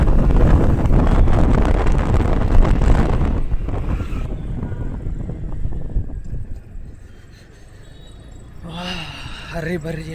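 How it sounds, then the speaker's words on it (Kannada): Loud wind roars across the microphone of a moving motorbike, heavy for the first few seconds, then easing to a softer rush. "ನಮ್ಮ ಸಿಸ್ಟರ್ ನಡೆಸ್ತಾ ಇದ್ದಾರೆ ಬೈಕ್."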